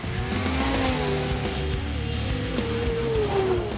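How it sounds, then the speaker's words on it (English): A turbocharged snowmobile revs hard as the throttle opens into boost, a loud, steady engine roar with rising pitch, close by and without talk. "the second you squeeze that throttle a little bit harder and get up into that boost"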